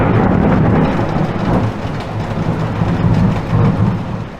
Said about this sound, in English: Then the thunder cracked.